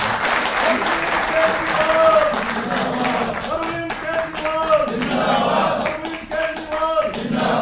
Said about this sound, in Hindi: आदरणीय मुख्यमंत्री जी, जोरदार तालियों से आप